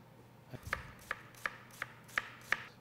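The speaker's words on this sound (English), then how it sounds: "Peel the onion. And we're going to cut it in half, like this." A kitchen knife cuts through an onion on a board, six sharp, evenly spaced chops close by in a quiet room.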